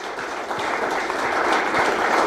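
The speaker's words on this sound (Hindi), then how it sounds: "आयुष के लिए तालियां हो जाए एक बार" An audience of students and parents at a school orientation applauds a young student, a loud, sustained swell of many hands clapping that builds slightly over its length.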